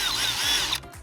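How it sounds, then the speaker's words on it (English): A power drill bores a hole into a closet shelf: a close, high, whining motor spins steadily for most of a second, then cuts off abruptly into a brief mechanical rattle. "I'm gonna drill a hole into the shelf"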